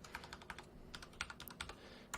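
Rapid, uneven keystrokes on a computer keyboard while entering terminal commands to set up a virtual server, close and clear, with short pauses between bursts and no talking.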